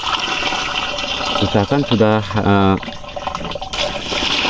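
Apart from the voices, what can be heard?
water poured onto urea fertilizer to dissolve it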